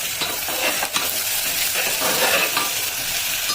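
Chopped onions with added salt roast and sizzle in a pan for vegetable pulao, a steady loud hiss with stirring scrapes running throughout, no voices.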